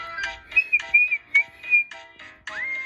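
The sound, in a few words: steam engine whistle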